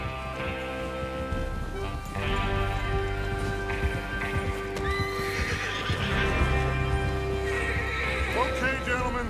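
Horses in the video game Red Dead Redemption 2 galloping with rapid clip-clop hoofbeats and occasional neighs, set under a layered game music score, fairly close and busy throughout.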